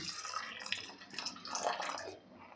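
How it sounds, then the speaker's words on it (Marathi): Water pours from a container onto washed whole masoor lentils in a pot, a soft steady splashing and trickling at close range that fades at the end. "तर इथे मी मसूर स्वच्छ धुवून घेतलेला आहे आणि यामध्ये घालायचं आहे आपल्याला पाणी"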